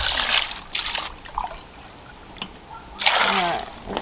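Apple cider vinegar with the mother in it pours into a gallon batch of chicken brine water in short gurgling bursts, splashing and trickling with pauses between pours.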